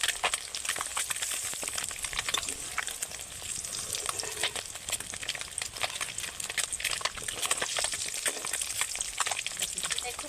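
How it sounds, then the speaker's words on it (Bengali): Eggs frying in a pan for an egg and brinjal curry give a steady, soft crackling sizzle throughout, close but fairly quiet, with no clear talking. "ডিম ভাজতে খুব বেশি সময় লাগে না।"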